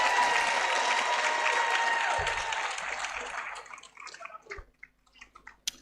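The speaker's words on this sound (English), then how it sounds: "Another round of applause, please." Applause from an audience at a university congregation ceremony in a conference centre starts full and dense, then thins into scattered claps as it fades away.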